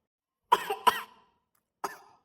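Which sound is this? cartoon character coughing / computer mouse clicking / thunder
cartoon character coughing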